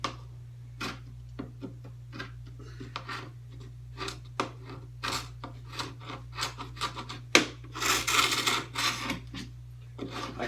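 Old putty and cracked paint scraped off an antique wooden window, heard as a close series of irregular rasping strokes that build to a denser scrape near the end, over a steady low hum.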